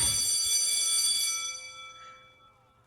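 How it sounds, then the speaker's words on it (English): A class bell rings in the KFC dating simulator game, a bright sustained electronic tone that starts loud and fades away over about two seconds, leaving near silence. "The class bell rings, disrupting the moment and snapping everyone back to reality."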